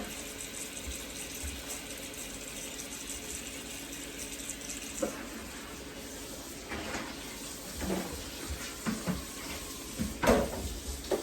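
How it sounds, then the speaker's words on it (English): Kitchen tap water runs steadily in the background while cooking, a continuous hiss with occasional clinks and splashes rising toward the end. "I'm sorry for the water in the background."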